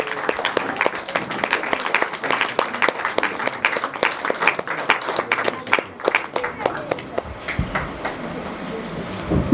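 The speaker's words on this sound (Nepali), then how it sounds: "हामी सबैजना उठ्नेछौँ र ताली बजाइराख्नेछौँ" Audience applause at a book launch ceremony in Kathmandu, with many hands clapping steadily for several seconds, then thinning out and fading toward the end.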